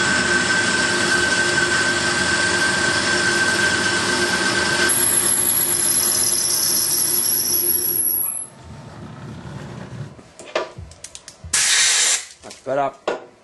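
Milling machine cutting with a boring head, a loud continuous grinding whine that runs steadily for about eight seconds, then stops, followed by scattered clanks and short bursts of noise.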